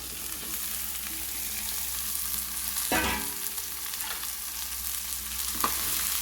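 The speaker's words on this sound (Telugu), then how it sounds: "బాగా కలపాలి ఐదు నిమిషాల పాటు లో ఫ్లేమ్లో అలా మగ్గనివ్వాలండి క్యాప్సికమ్ని" Capsicum and tomato frying in a pan as a curry cooks on low flame, a constant sizzle broken by a few sharp stirring scrapes, close and clear with no voices.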